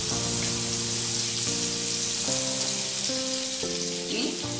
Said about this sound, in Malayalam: എണ്ണ ഒന്ന് ചൂടായതിന് ശേഷം നമുക്കിതിലേക്ക് ചെറിയൊരു സബോള കട്ട് ചെയ്തിട്ട് ഇട്ട് കൊടുക്കാം